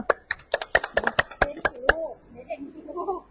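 About a dozen quick, sharp hand claps in a fast, slightly uneven burst during a live secondhand-clothing sale, followed by someone speaking.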